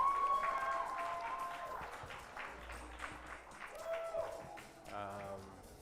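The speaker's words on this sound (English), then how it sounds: "Clap for Afayo, everyone." An audience at a media fellowship graduation ceremony claps, the applause fairly faint and continuous under music and voices talking over it.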